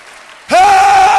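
A church congregation bursts into loud clapping after a quiet moment, with a sustained shout rising above the dense, close applause.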